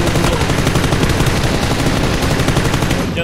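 Rapid automatic gunfire from a skinned gun firing at 975 rounds per minute in PUBG: a loud, continuous burst of shots that rattles on unbroken for several seconds before easing slightly at the end.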